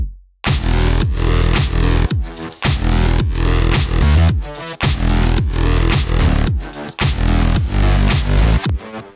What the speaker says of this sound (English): All I've done here is use Fold with just a tiny hint of soft clipping to make the track a bit more exciting and full sounding